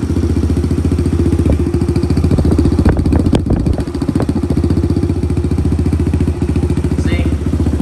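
A Kawasaki KLX110 dirt bike engine runs loud and close without its spark arrestor, a steady rapid single-cylinder putter with some clattering and small surges, alone throughout.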